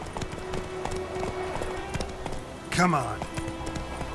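Horse hooves clip-clop in The Witcher 3 video game as a steady run of soft hoof beats, with a voice speaking briefly over them and a sharp, louder burst partway through.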